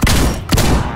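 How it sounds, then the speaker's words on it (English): Rapid gunfire in the Rec Room video game: two loud, close bursts of repeated shots, each about half a second, separated by a brief gap. "I just shot them 7 times and only killed one"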